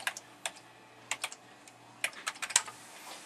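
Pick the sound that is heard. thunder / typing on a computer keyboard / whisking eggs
typing on a computer keyboard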